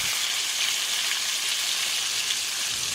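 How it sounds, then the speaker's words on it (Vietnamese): Fillets of fish coated in crispy batter deep-fry in plenty of oil in a pan, a loud, close, continuous bright sizzle and crackle holding steady throughout with no voices. "Bắc chảo lên bếp và chiên giòn."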